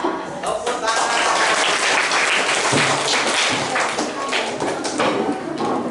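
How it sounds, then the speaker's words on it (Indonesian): A school class clapping hands together during a lesson, loud and close, a dense sustained patter of many hands with some thumps mixed in, continuing throughout with no break. "Tepuk tangan."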